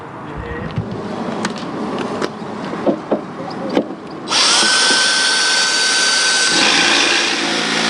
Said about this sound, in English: So I'll mark that and drill that, and then that's all the drilling on the outside done.